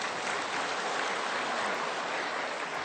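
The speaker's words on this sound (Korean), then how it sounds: "좀 박수 한번 해야죠." A church congregation claps during a Sunday sermon, a continuous, even roar of many hands that stays at steady volume from start to finish with no speech.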